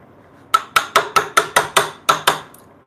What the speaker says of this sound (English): I use the small chisel, just bite size.